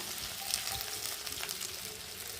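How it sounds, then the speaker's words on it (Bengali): Vegetables sizzle in hot oil with green chillies for a raw-banana fish curry, a continuous close crackling fry with no one talking. "সবজিটা ভাজা হয়ে গেছে দেখতে পাচ্ছি একসাথে ভালো করে ভেজে নিয়েছি"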